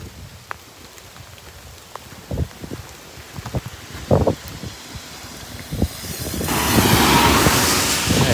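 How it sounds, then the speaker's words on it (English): Cars pass on a road beside a lake near a brewery restaurant in Akita, Japan, with a few brief whooshes followed by a louder, longer wash of tyre noise as a vehicle approaches close by. "wait for the cars"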